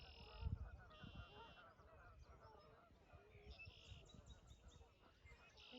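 Geese honking outdoors, a few distant, somewhat faint calls repeating at intervals over rumbling wind or low background noise, with a voice also present.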